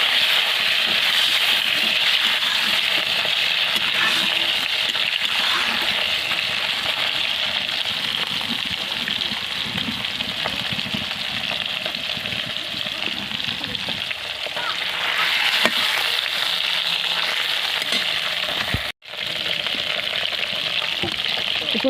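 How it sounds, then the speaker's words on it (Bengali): A fish head fries in hot oil with chopped onion, a steady, loud crackling sizzle that runs on continuously with small pops and a brief clatter near the end. "একটু পেঁয়াজ কুচি করে সেই তেলে আমি একটা মাছের মাথা দিয়ে দেবো"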